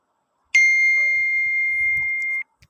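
A double iPhone-style message ringtone plays once from a phone app: a sharp chime followed by a steady sustained electronic tone lasting about two seconds, clear and alone, then silence.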